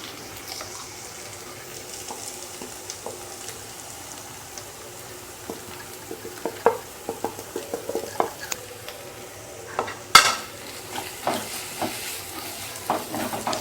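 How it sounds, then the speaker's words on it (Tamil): Browned onions and spice powders for mutton chops masala are sautéed in a pan, giving a soft, continuous sizzle broken by scattered stirring scrapes and clinks, the loudest a sharp knock just past the midpoint. "இது எல்லாத்தையும் ஒரு 2 மினிட்ஸ் நல்லா வதக்கிக்கலாம்."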